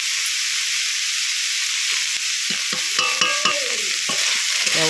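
Salted gandal leaves being stir-fried dry in a pan produce a continuous bright sizzle, with a series of close scraping and tapping strokes from a spatula toward the end.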